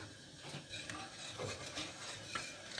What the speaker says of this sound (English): just keep stirring, and everything will eventually come together